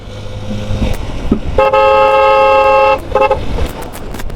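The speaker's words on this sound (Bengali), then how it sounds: "তুমি আমার হর্ন দেখো দেড়শো টাকা দাম" Horn on a Suzuki GSXR motorcycle, with a loud, sustained, bright electric toot lasting over a second, then a brief second tap, close up against street noise.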